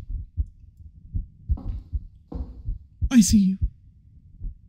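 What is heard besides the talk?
heartbeat sound in video game Wrong Floor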